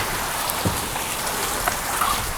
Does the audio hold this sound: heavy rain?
yes